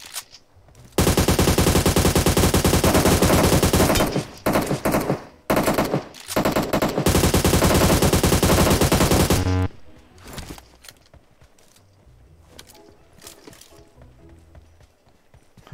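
In PUBG at Georgopol, sustained automatic gunfire rakes a vehicle's wheels, loud and dense for several seconds with brief gaps, before giving way to quieter scattered sounds and movement.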